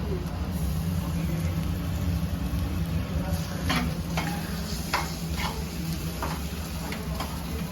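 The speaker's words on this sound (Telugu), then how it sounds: "ఈలోగా ఫిష్ ఉడుతుంది బాగా." Fish curry simmering in a pan while being stirred, with steady bubbling sizzle and a series of short scraping stirs, close and moderately loud against constant background hum.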